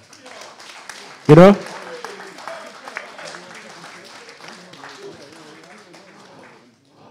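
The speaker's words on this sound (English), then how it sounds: "Come on, give him a clap." A short, sharp burst of audience clapping rises and quickly fades for technician engineer Theo at a live event, with someone talking before and after it.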